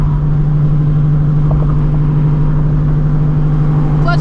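Steady, loud drone of a 900-horsepower manual-transmission car's engine while driving on the road, holding a constant low hum with no clear revving or gear changes, and no voices.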